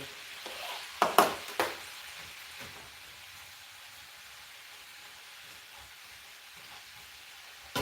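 Chopped green beans hit a hot pan with a brief loud sizzling burst, then settle into a steady, soft frying hiss for several seconds, with no talking.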